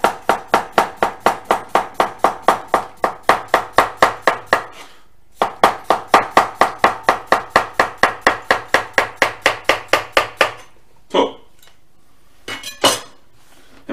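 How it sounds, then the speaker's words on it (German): Fast, even chopping of salad vegetables with a knife on a board, around thirty sharp crisp strokes in two long bursts with a brief pause between, then a few scattered knocks; close and loud, no talking. "ich mache es einfach schön so mit dem Messer"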